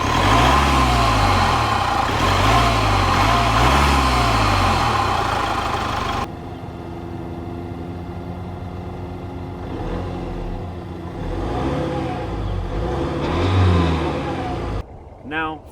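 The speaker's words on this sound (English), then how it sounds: "So this engine is a 2-liter turbocharged diesel, which produces 180 horsepower and 319 pound-feet of torque." Jaguar XE 20d with a 2-liter turbodiesel engine, 180 horsepower, first a loud steady idle with rhythmic swells, then a quieter idle with a couple of revs rising and falling, and a person talking briefly.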